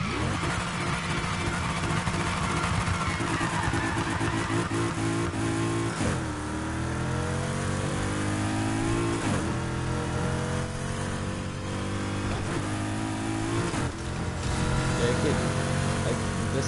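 A four-speed car engine revs loudly and continuously, its pitch rising and falling as it climbs through the gears, with a few dips where the revs drop between shifts.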